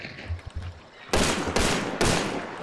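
Gunfire in the video game Hunt: Showdown comes after a quieter opening: three loud, sharp shots about half a second apart ring out close to the player.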